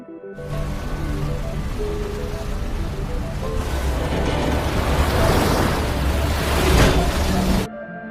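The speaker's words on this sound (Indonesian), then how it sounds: "akhirnya Mallory pun tiba di jeram-jeram sungai yang sangat deras." Very fierce river rapids churn in a loud, steady roar of rushing whitewater, building slightly in intensity before cutting off abruptly.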